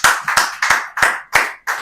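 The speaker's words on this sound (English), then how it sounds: "please let's give Dr. Jawala another round of applause for that insightful presentation" Six sharp, evenly spaced hand claps ring out close and loud at a summit event, each a crisp slap with a short decay and no crowd wash behind them.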